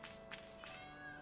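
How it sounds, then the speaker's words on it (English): A cat in the Tales of Arise video game meows a few times in quick short calls, clear and close, over soft background game ambience. "We can make the cat meow."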